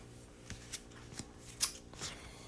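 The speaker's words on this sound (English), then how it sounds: "And I pre-shuffled these." A deck of tarot cards is shuffled softly and close by, with a few light riffles and flicks at irregular moments over a quiet background.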